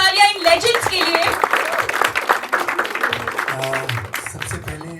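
An audience applauds film legends at a trailer launch event, a dense burst of crowd clapping mixed with music and a voice over the top, loud and continuous throughout.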